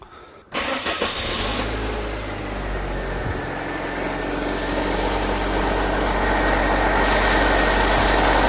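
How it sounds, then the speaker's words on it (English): A car engine cranks and catches after a brief pause, then settles into a steady, loud idle that hums on throughout, with a slight rise in level toward the end. "Now that the engine is running,"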